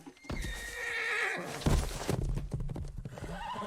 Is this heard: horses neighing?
yes